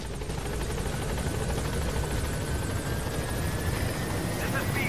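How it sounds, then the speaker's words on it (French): A helicopter in the video game Metal Gear Solid V arrives with a steady, rapid rotor chop and engine whine. It holds at a fairly loud, even level for the whole stretch. "Donc l'hélico."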